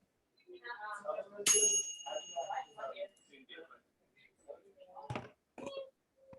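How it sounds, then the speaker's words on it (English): A single bright ring of a small bell, like a bicycle bell, sounds once with a short sustained tone while a person keeps talking over it. "whoever just rang a bell, do not chime that 3 times"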